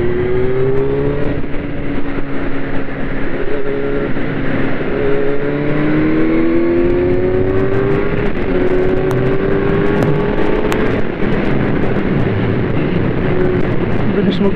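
An inline-four Kawasaki Z900 motorcycle accelerates hard in sport mode, loud and close, its engine note climbing through repeated gear shifts with rising whines over nearly fifteen seconds.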